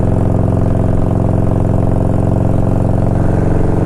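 A 1992 Harley Davidson Electra Glide Sport motorcycle engine runs close by, a loud, steady low throb with an even pulsing rhythm throughout.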